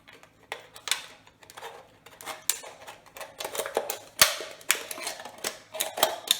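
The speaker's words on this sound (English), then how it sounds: "cut the bottom out with the scissors" Scissors pierce and saw through the bottom of an empty metal can, giving a rapid series of close, sharp metallic crunches and scraping snips with brief pauses between cuts, one louder snap near the middle.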